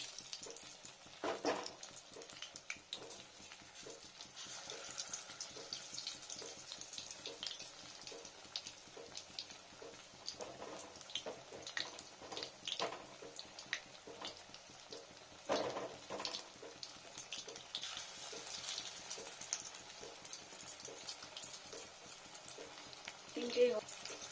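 Paneer chops dipped in spiced gram flour batter frying in hot oil, a steady soft sizzle and crackle running throughout with occasional louder pops, with a voice talking quietly over it.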